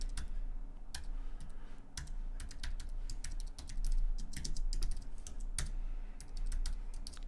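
Someone types code on a computer keyboard in a quiet room, producing quick, irregular bursts of key clicks with short pauses between them.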